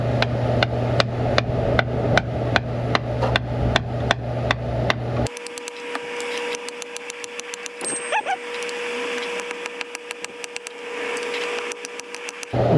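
Steady metallic hammer strikes using the side of a hammer during car repair work in an auto shop, a regular rhythm of close, sharp knocks throughout, briefly pausing and resuming with lighter taps.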